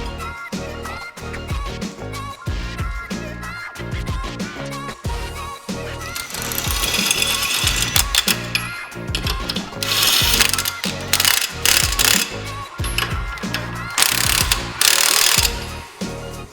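Ratchet wrench tightening lug nuts to hold a brake rotor on a Mustang, a loud close run of rapid clicking strokes in bursts, growing harsher toward the end.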